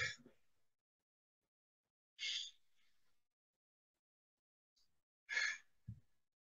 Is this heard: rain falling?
no